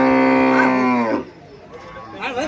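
A bull at a livestock market gives one loud, drawn-out moo up close, lasting about a second before fading into quieter market background noise.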